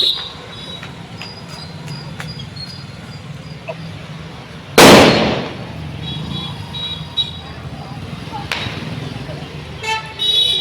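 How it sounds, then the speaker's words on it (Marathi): Diwali firecrackers burst loudly on a busy Jalna street, one sharp close blast followed by smaller pops amid traffic horns and a speaking voice. "आता मी जस्ट इथे आलो आणि जोरात फटाके वाजायला लागली."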